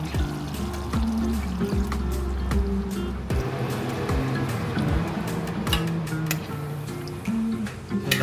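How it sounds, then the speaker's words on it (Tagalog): Water pours steadily into a pot of pork pochero with meat in it, a continuous close splashing and trickling with bubbly gurgles and small knocks running throughout. "lagyan natin ng tubig"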